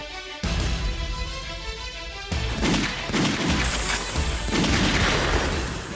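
Gunfire at a shooting range during a short-distance shooting round of an idol sports competition show: dense, loud bursts of overlapping shots that crack and boom, with no clear pause between them.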